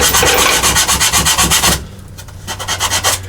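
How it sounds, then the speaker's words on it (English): Sandpaper wrapped around a dowel rubs loudly at the corners of a wooden pottery batt in quick, even back-and-forth strokes, close up, before a short pause and a few lighter strokes. "I can come in with some sandpaper wrapped around a dowel and work on my corners and get those cleaned up."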